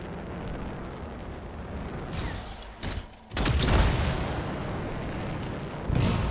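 Contained explosion in the video game Anthem, a loud rumbling blast that swells over a dense, roaring background and flares again briefly near the end, with no talk.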